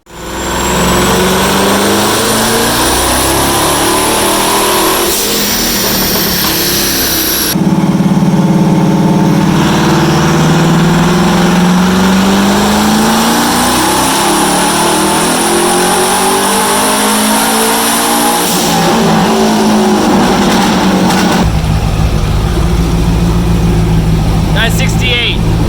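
A twin-turbo C7 Corvette on 93 octane with methanol and MS109 race fuel revs hard at full power on a dyno, its engine note sweeping up and down loudly and continuously for the whole stretch.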